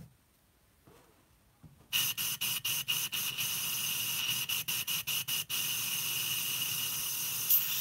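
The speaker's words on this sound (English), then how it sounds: "We can go and spray some water through it" A steady airbrush hiss as an Infinity airbrush sprays water, starting after a quiet moment, broken by several quick pulses as the trigger is worked, then continuing evenly.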